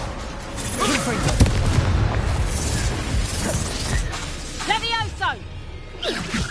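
Confringo fire spell bursts in the Hogwarts Legacy video game amid a busy magical battle, with whooshing blasts and crackling impacts under a voice calling out spells, followed by several short chirping magical effects.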